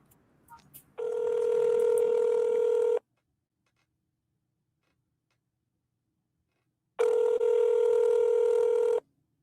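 A telephone call tone plays as two long, loud, steady buzzing tones, each lasting about two seconds, separated by a silent gap of roughly four seconds. It sounds like a ringback heard while calling someone.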